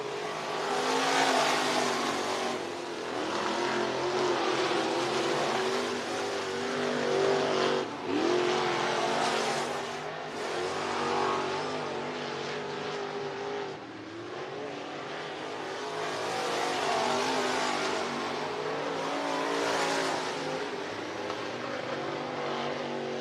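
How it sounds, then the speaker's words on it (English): IMCA Modified race cars run qualifying laps at Cottage Grove Speedway, their engines roaring loudly and steadily for the whole stretch and swelling and fading as the cars circle the track. No one talks. "Group 2 of the IMCA Modifieds group qualifying is underway."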